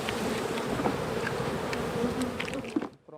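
Honey bees buzz in a dense, steady drone around hive frames outdoors, with individual bees passing close now and then before the sound drops away at the end.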